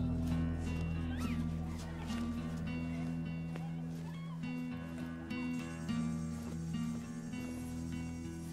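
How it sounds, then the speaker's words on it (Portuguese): A kitten meows repeatedly in short, high calls that rise and fall over a sustained low hum and background music, each mew clear but moderate in loudness. "Gatinha."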